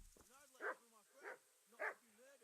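Three distinct dog barks spaced about half a second apart from a dog in the medieval role-playing game Kingdom Come: Deliverance, moderately close and clear with faint game ambience between.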